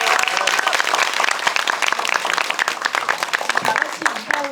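An audience applauds at a cinema talk after a film screening, dense rapid clapping from a full room, loud and sustained, with a few voices mixed in before it tapers at the end.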